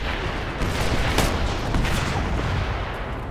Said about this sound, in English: This is Alpha Team. We're getting shot at.